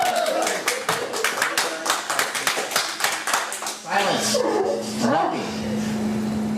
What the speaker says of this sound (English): you could hear all the cheering in the courtroom